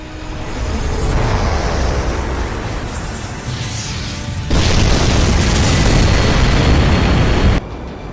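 Four Triton engines fire for takeoff in the Fate/Grand Order game, a loud continuous roaring rumble that surges stronger midway, holds steady, then cuts off abruptly near the end.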